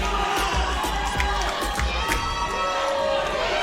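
A boxing club crowd at a sparring event cheers and shouts loudly and continuously, with thumps and commentary-like talk mixed into the steady roar.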